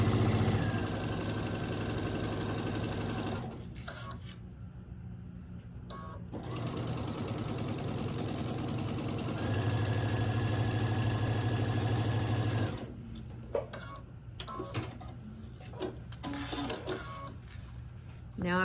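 A sewing machine joins jelly roll quilt pieces with a quarter-inch seam, humming in two long steady runs separated by a pause, then falling quiet with soft handling sounds.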